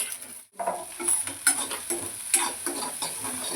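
Eggs with a little salt being scrambled in a hot frying pan, a close sizzle with rhythmic scraping and tapping of a spatula against the pan, and no one talking.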